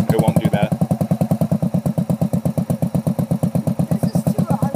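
A motorcycle engine is started and runs with a fast, even, loud thumping pulse close by, a brief rattly clatter at the very start, a learner rider at the controls.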